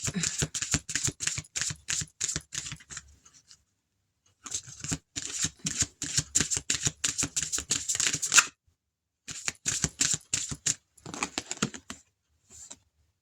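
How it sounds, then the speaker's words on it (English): Cards are shuffled in three quick rattling bursts separated by short pauses, close up and fairly loud. "I'll shuffle one more time and see if there's anything that comes out."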